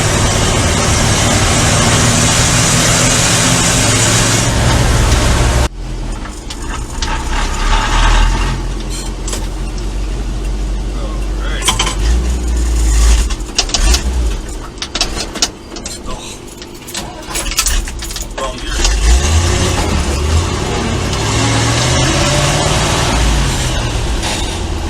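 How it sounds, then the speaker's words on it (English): A 1967 Chevy C50 truck drives along with its engine in a steady, loud, close rumble and road noise throughout, while people talk over it. "You always get thumbs up when you're driving this truck."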